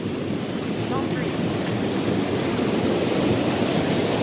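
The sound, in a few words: storm water flowing over the top of a weir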